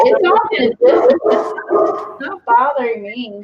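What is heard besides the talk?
dog barking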